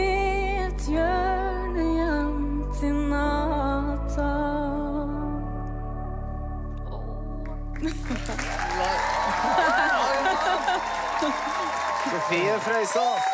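Studio audience applause erupts partway through, a dense, loud wash of clapping that replaces the preceding music and continues to the end.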